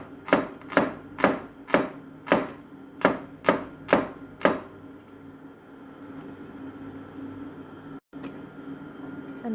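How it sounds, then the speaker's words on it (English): Knife slicing red onions on a cutting board, nine crisp, evenly spaced chops up close, followed by a quiet pause with faint background hum. "And now slice the red onions into small."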